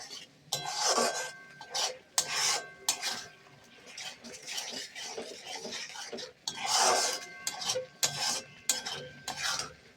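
A spoon scrapes and stirs chalar murighanto, a Bengali chana dal and fish-head dish, as it is sautéed in a pan. Bursts of metallic scraping come in irregular strokes, close and fairly quiet, over a faint background sizzle, with no talking.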